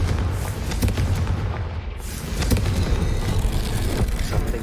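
A Confringo blasting spell explodes in Hogwarts Legacy as a loud, sustained rumbling roar that fills the whole stretch without any clear separate hits.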